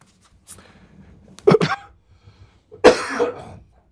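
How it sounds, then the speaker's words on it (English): A man coughs twice in two sharp, close bursts, each a quick double hack, with a faint small sound beforehand and quiet between. "Sorry, I've had this cough for forever."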